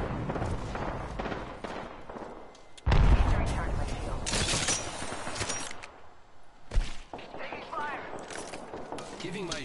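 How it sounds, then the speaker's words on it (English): A thermite grenade thrown in the video game Apex Legends, heard as a sudden loud burst and crackling hiss amid other game noise and gunfire, with a voice speaking over parts of it. "Throwing thermite grenade"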